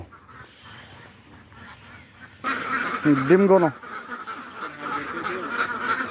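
Ducks quacking and honking at a duck farm, a loud close burst of calls after quieter background, with people talking briefly.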